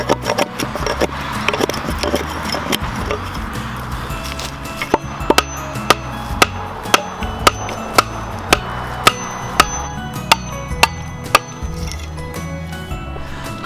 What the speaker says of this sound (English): right now Grandpa is just hollowing it out so that you can actually